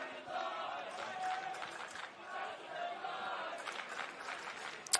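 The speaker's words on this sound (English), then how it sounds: "And the crowd getting involved now too." A crowd at a rugby league men's final between Queensland and the Northern All Stars gives off a continuous roar of cheering and calls that rises and dips slightly over five seconds.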